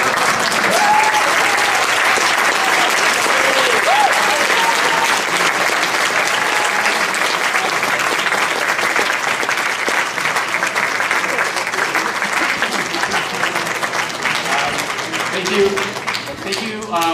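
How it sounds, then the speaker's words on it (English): Sustained audience applause fills the room after a local government candidates' debate, loud and dense from start to finish with no break in the clapping. "30 seconds of applause, please."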